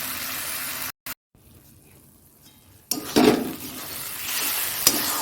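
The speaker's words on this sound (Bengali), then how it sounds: "মাংসটা দেখো দই দিয়ে লেবু দিয়ে তো মাখিয়ে রেখেছি এটা কষানো হোক" Yogurt-and-lemon marinated chicken dropped into a hot pan to sauté, a burst of sizzling after a brief silence, with clinks of a utensil and steady frying noise continuing.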